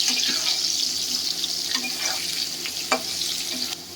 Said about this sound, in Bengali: এটা দিয়ে এবার একটু ফ্রাই করে নিতে হবে